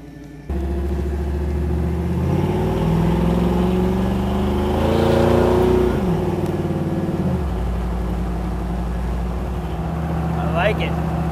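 A 1972 Ford Bronco's V8 engine idles with a steady low rumble, then revs up and eases back as the truck pulls off, the engine note rising and falling over several seconds.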